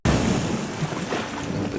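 Ocean surf washing in loud and close, a broad rushing roar of waves with wind noise that starts abruptly and stays steady.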